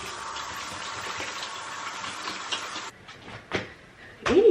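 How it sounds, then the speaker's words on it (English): Tap water runs steadily as hands are washed at a home sink, a constant broad rush lasting about three seconds before it cuts off, followed by a few faint splashes and knocks. "Let me wash my hands."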